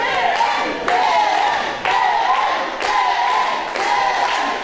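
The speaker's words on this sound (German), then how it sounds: "hier die Anfeuerungsrufe aus dem Publikum für Tim Suxow" A wrestling crowd at an MWA-Wrestling show in Lübeck chants rhythmically in support of Tim Suxow, loud repeated chant phrases about once per second, with voices mixed in.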